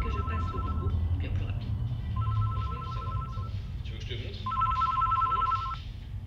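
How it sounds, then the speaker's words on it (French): A telephone bell rings in three bursts of about a second each, separated by short pauses, over a steady low background murmur that includes voices. "Et puis le téléphone a sonné."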